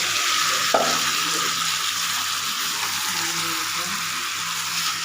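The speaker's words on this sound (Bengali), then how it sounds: "পেঁয়াজ হালকা পেঁয়াজ দিয়ে একটু ভেজে নেব।" Onions fry in a pan with a steady close sizzle and occasional stirring, continuous and moderately loud with no talk.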